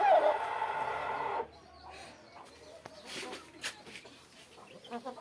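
Foreign-breed chickens at a poultry farm: a loud burst of close, dense clucking for about a second and a half, then fainter scattered calls and background rustling.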